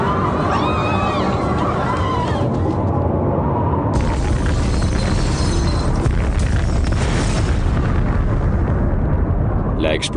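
A simulated asteroid impact explosion with a sustained, roaring blast and rumbling shockwave that shifts into a denser, harsher roar midway and continues loudly throughout.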